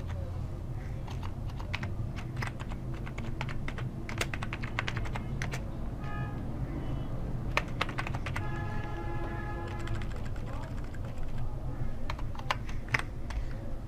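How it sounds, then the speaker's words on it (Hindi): Typing on a computer keyboard while entering an account name for a Perfect Money account; continuous clatter of keystrokes with bursts of rapid clicks, fairly close, over a steady low hum, no talking. "तो यहाँ पे मैं टाइप करता हूँ"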